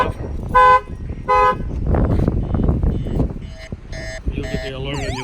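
A shock-sensor-triggered factory alarm on a pickup truck sounds loudly up close: two short horn toots, then a stretch of heavy thumping, then rapid beeps and a warbling siren sweep.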